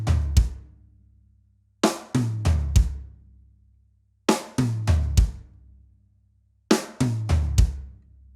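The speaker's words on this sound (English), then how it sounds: "So the first group, right, kick, sounds like this." Drum kit groove in which snare hits fall in three repeated groups of quick strokes, each group opening with a low kick drum beneath it, clean and close with silent gaps between the groups.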